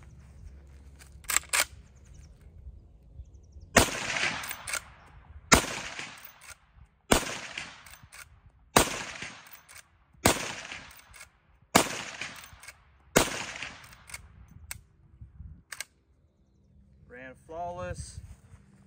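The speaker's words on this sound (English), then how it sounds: "We'll go ahead and send some rounds down range." A Marlin 1894 lever-action rifle in .357 Magnum fires about seven loud, sharp shots, spaced one to two seconds apart, each with a short ringing decay, outdoors at a range.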